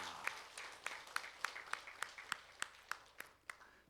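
A church congregation gives a sparse, faint round of applause at a Sunday service, about a dozen distinct claps in an even rhythm, distant and quiet.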